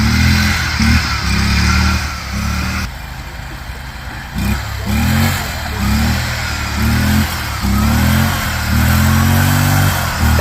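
A mud racing mower engine revs hard and unevenly, its throttle worked by hand because of a broken throttle cable, with loud pulsing bursts rising and falling through the whole stretch and no talk.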